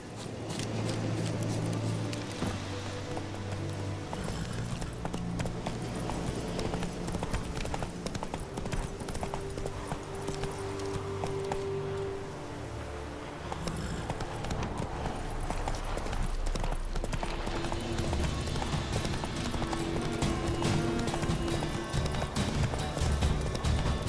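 Steady clip-clop of a horse galloping in The Witcher 3, hoofbeats running continuously and close for the whole stretch, with an occasional snort or whinny over a music and ambient game soundscape.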